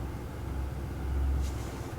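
A 2024 GMC Sierra 2500 AT4X AEV Edition pickup sits at high idle in cold weather, giving off a faint, steady low engine rumble.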